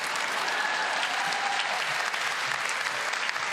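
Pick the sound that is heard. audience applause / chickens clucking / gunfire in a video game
audience applause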